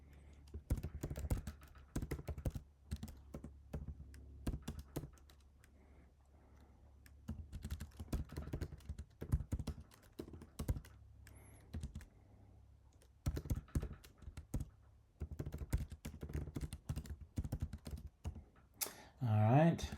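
Fast, uneven bursts of computer keyboard typing as a work order is written, crisp close clicks coming in clusters with short pauses, ending with a brief rising electronic tone.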